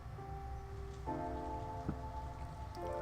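Steady rain patters in the Steins;Gate 0 video game, a soft even hiss of falling drops beneath sustained musical tones that shift pitch a few times.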